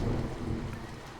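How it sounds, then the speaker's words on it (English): Steady rain falls in a continuous, dense hiss with a low, rumbling undertone of thunder, loud and unbroken throughout with no voices. "It has been raining steadily now all day"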